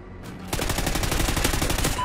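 A rapid burst of automatic gunfire in a video game starts after a short quiet lead-in, then hammers on close and loud in an even, fast rhythm.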